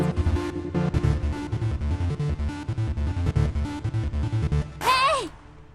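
A techno remix intro, a pulsing electronic beat with a repeating rhythmic pattern, ending in a short swooping voice-like shout before it cuts off.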